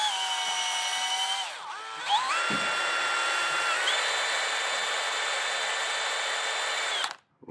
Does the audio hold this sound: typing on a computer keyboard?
no